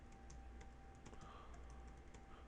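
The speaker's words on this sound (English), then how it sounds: "So I'm going to type in my test" Quiet, rapid keystrokes on a computer keyboard as an email address is typed, steady clicking with no talk.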